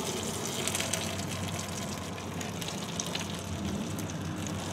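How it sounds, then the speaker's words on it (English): A man pees into a bottle inside a vehicle at a mobile detailing job, giving a steady trickling, gushing stream of liquid, close and continuous throughout. "I'm literally peeing in this bottle right now."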